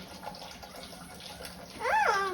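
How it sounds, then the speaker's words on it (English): Water runs and splashes in a kitchen sink as a small child plays in it, a steady close wash of trickling and sloshing, with a brief high voice near the end. "He is playing in the sink with some water."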